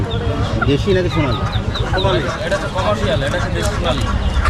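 Chickens cluck and squawk continuously amid a busy crowd at a bird and livestock market, with voices chattering all around in a noisy, bustling setting.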